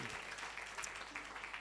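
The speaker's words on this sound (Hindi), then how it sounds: "जोरदार ताली बजा के प्रभु यीशु मसीह का स्वागत करेंगे" Audience applause at a church devotion session during a youth conference, a dense, steady wash of clapping that fills the short stretch at an even loudness, with no voices standing out.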